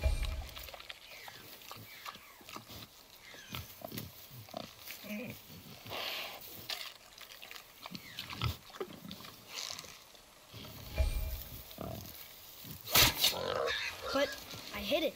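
Boar grunting in the video game God of War, a series of low, rough grunts and snorts spread across the scene at moderate distance, with occasional louder bursts and quiet spoken voices in between.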